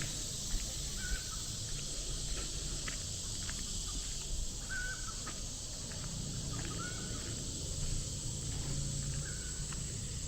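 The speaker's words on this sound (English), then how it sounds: "you can hear the house up on the hill across the road here has chickens." Faint, distant rooster crowing from a house on a hill across the road recurs every few seconds against a hissy outdoor background.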